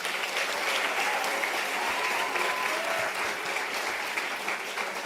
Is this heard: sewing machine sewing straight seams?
no